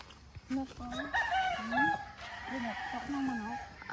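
Chickens on a rural farm in the Philippines, with a rooster's crow and clucking calls repeating in short bursts at moderate distance, mixed with some nearby voices.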